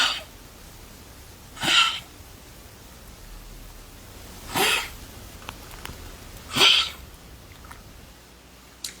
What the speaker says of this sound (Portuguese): A tosse cardíaca.